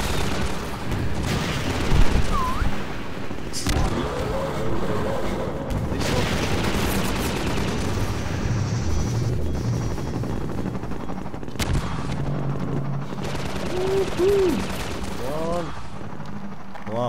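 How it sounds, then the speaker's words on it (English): Machine-gun fire rattles in dense, sustained bursts during a gunship helicopter fight in the Half-Life 2 video game, with occasional booms mixed in. Talk and game voices sit under the loud shooting. "Launcher is our best bet for taking down a gunship."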